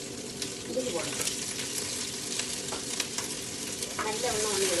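Green chilies, shallots and garlic sizzle steadily in hot oil while being stirred for a fish curry, with occasional scraping of a utensil in the pan.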